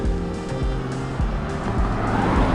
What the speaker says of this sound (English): I do not remember this much traffic on this road